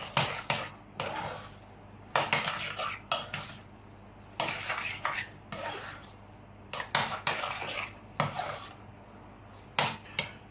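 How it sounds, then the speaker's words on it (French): A tomato and courgette mixture is stirred in a bowl with a utensil, giving repeated bursts of wet scraping and clinking that start and stop in an irregular rhythm, close and moderately loud, with no talk. "On mélange le tout."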